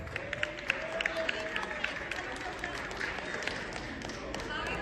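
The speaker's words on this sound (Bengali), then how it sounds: "ওদের সবার জন্য একটা জোরে হাততালি" Audience at a children's Saraswati Puja stage show in America applauding the young performers, a steady, fairly faint wash of clapping and crowd noise with scattered sharper claps throughout.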